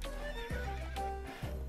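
An Ardennes draft horse gives a loud, close whinny in repeated rising bursts, with hoof clip-clops as it comes to a stop and no voices.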